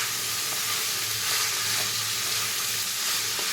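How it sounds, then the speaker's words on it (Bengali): Ash gourd pieces are stirred and fried in a pan, a steady soft sizzle with light scraping touches from the spoon, close and moderately quiet, with no speech. "এবারে এটাকে আমি ভালো করে নাড়াচাড়া করে মিক্স করে নেব।"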